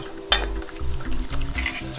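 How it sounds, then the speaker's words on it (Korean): Beaten eggs are whisked briskly in a bowl, making a run of rhythmic clinks and scrapes against the sides, close and fairly loud with short pauses between strokes. "계란 넣으신 다음에 잘 풀어주시면 돼요. 거품기 있으시면 거품기로 하셔도 되고."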